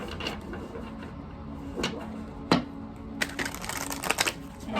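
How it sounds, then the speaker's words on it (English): Tarot cards are shuffled by hand during a card reading, giving a few rough riffling and snapping bursts that grow busier toward the end, close and fairly loud with no speech. "I'm gonna get two more shuffles here."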